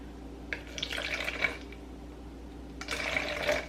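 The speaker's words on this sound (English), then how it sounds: "let's measure out 100 grams of warm water" Warm water pours into a container on a kitchen scale while baking bread starter, coming in two short splashy bursts with a pause between, close and fairly quiet.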